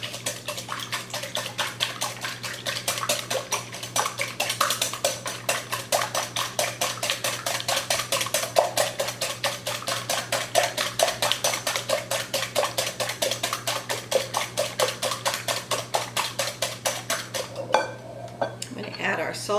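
Eggs are beaten hard in a bowl with a whisk or fork for a pumpkin pie, a fast, even run of close metallic clinks against the bowl that keeps going and stops near the end, with no talking.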